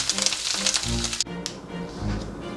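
Dry beef kebabs sizzle loudly while frying in hot oil, a continuous crackling hiss with occasional stirring knocks and a brief dip in the middle.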